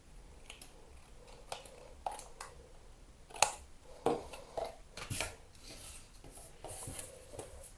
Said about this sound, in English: I'm just going to turn it around and cut them off and use those strips